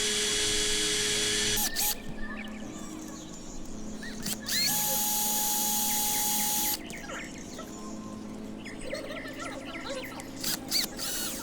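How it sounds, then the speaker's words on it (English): A small power drill with a 1/16 bit bores into the pillars of a Matchbox Mercedes-Benz model car, a whining motor that starts and stops in several bursts, close and fairly loud, with quieter scraping between runs. "I'll use a 1/16 drill bit to drill the pillars."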